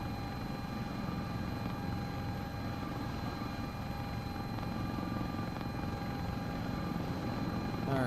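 A Sikorsky S-76C++ helicopter in the CowanSim flight simulator slows for landing, its steady rotor and turbine drone humming continuously with faint high whine tones throughout.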